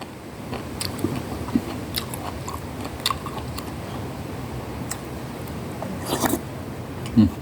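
Someone eating laab tao, an Isan algae salad, with soft irregular chewing and crunchy bites close to the mouth over a steady background hiss.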